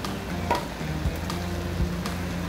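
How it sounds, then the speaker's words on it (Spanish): Sauce going into a hot pan of stew with meat, a steady frying sizzle broken by a few soft clanks and stirring sounds, with no talk. "Y ahora sí voy a agregar la salsa."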